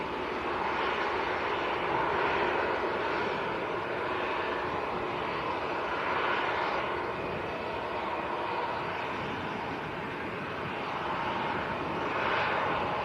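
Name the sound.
Boeing 737 airliner taking off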